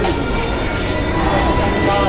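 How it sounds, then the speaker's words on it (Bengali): Train pulling into Naihati station during the Puja crowds, a loud, steady rumble and roar of rail cars close by, continuous and broadband, with no clear voices over it. "চলো ট্রেন চলে এসছে নৈহাটি"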